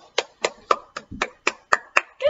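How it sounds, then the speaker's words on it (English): Hands clap in a steady beat during a children's song at a story-time session, nine sharp, close claps evenly spaced about a quarter second apart. "Clap your hands, stomp your feet, hooray!"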